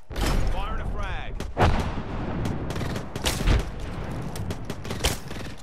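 Frag grenade blasts in Apex Legends, several sharp booms mixed with gunfire and game effects, loud and close in a busy firefight.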